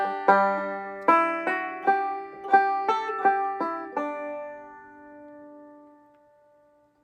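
A bluegrass banjo plays a phrase of the Temperance Reel alone, bright plucked notes in a quick run that ends on a held note and rings away into quiet.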